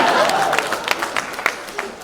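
Applause and laughter at a press conference, a crowd clapping that starts full and thins into scattered claps, with a voice briefly heard beneath it.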